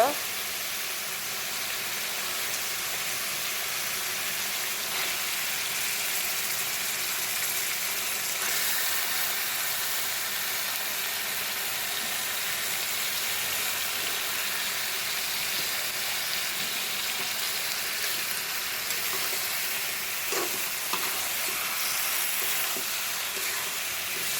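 Duck meat frying in hot oil, a steady broad sizzle sustained throughout with occasional faint clinks, fairly close, with a voice talking at times.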